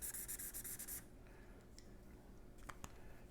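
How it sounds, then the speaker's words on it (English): A Sharpie marker sketches shading strokes on paper for a cartoon turkey drawing, opening with a quick run of close, rhythmic scratchy strokes, then fading to faint, sparse scrapes. "And for the shadow, go with a Sharpie at the bottom,"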